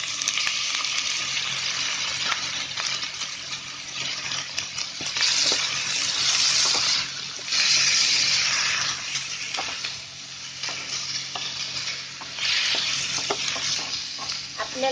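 Chopped tomatoes and onion frying in oil for paneer bhurji, a steady close sizzle with bursts of crackling as the pan is stirred, some louder swells, no talk.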